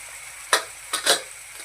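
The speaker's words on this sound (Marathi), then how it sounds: "हे चांगलं परतून घेऊया" Spinach curry with tomato, red chili powder and garam masala stirred in a pan, with three quick scraping strokes, two close together, over a faint sizzle.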